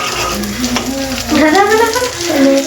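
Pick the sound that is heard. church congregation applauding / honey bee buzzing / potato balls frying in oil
potato balls frying in oil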